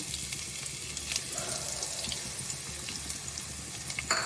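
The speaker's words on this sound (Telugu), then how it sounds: "సో చాప్ చేసి పెట్టుకున్న ఆనియన్స్ వేసేస్తున్నాను" Chopped onions frying in hot oil for a dhaba-style chicken curry, giving a steady, even sizzle that runs throughout at low volume with no talking.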